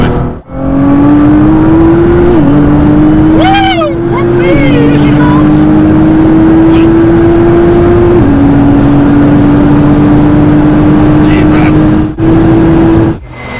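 Inside a 1000 horsepower Liberty Walk Nissan GT-R, the engine drones loud and close under sustained acceleration, its steady tone stepping up through gear changes, while people talk briefly over it.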